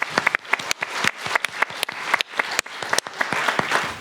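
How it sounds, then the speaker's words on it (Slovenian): Audience applause at a film discussion event honouring an interpreter, with sharp individual claps standing out from a looser, uneven patter that swells and dips throughout. "lepo prosim še en aplavz za Natalijo"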